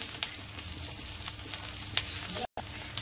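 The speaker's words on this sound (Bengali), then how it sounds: "এবার মশলাটাকে কষবো আমি" Chili paste and spices sautéing in a pan for a prawn curry, a steady frying sizzle with light stirring taps and a brief dropout near the end.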